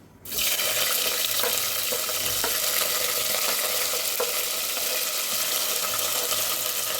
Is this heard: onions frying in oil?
yes